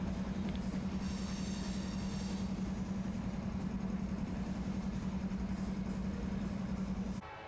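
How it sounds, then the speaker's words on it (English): A CPKC manifest freight train cruises steadily through a rail alley, its loud, constant engine drone and rolling wagons heard up close without pause until the sound drops away abruptly at the very end. "CPKC Manifest M266 is seen here cruising through the alley as it's on its final stretch of its journey"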